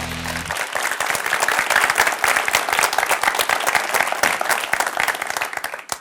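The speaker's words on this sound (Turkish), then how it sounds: "çok alkış geldiğine göre" Audience clapping at a talk, a lively burst of many hands with distinct individual claps, loud and close, sustained for several seconds before trailing off.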